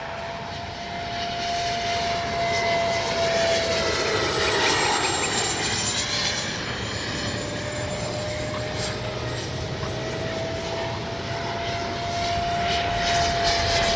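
A radio-controlled F-86 64mm jet model flies at full speed into a strong wind, giving a continuous, loud, near whine with a high-pitched tone that slowly rises and falls, and no talking.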